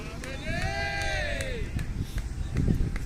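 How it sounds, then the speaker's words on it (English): Crowd noise from a cricket team dugout at the New Zealand national championships, a lively babble of voices and cheering with a high whistling tone sweeping through the outdoor din. "Jubilant scenes there from the court short dugout, cheering their countrymen along."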